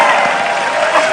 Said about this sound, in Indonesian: Tepuk tangan untuk Adit Tiagumai, silakan.